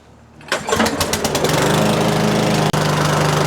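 A Power Smart lawn mower with a Chinese engine starts after a pull and settles into a loud, steady running drone close by, with one brief dropout near the end.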